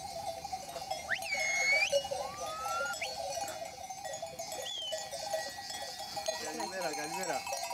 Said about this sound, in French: L'ambiance dans les montagnes d'Eubée, c'est ça.